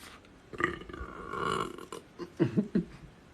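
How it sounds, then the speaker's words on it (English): A person lets out a drawn-out burp followed by a few shorter, guttural belches, loud and close with no other sound around them. "burping is one of the ways I help to release energy"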